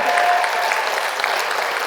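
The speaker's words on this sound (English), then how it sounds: "Give them a round of applause, man." An audience claps in a continuous, even wash of applause at a May 2022 American Indian Month celebration, steady and fairly loud throughout.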